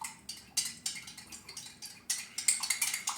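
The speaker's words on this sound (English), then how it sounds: "Mix that up. Make sure it's dissolved good." A spoon clinks and scrapes repeatedly against a glass or cup, dissolving NMN powder, AKG and TMG in liquid; a rapid, steady series of close, bright taps with no talk.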